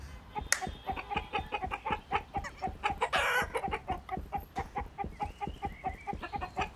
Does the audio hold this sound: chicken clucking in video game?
yes